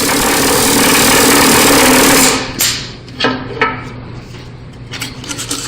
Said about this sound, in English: The samples will be rammed a second time and left slightly overfilled.